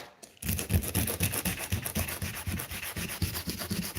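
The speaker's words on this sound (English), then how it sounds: "We're just here sanding away." Steady, rhythmic rasping strokes of hand sanding on a Holden VZ SS ute, close by and fairly loud, repeating back and forth without pause after a brief quiet start.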